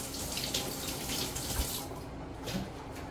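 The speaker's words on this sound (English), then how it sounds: "Let me rinse my hands off." Hands are rinsed under a running kitchen tap, a steady close rush of water splashing into the sink that continues throughout.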